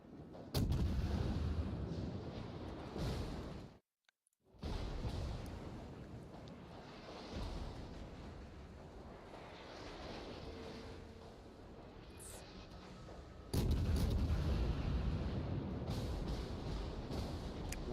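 Warships trade naval gunfire in a World of Warships battle. Deep booming salvos and a rolling low rumble run almost continuously at a moderate level, with a brief lull before heavier blasts return.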